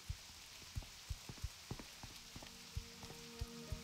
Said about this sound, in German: hier muss es natürlich regnen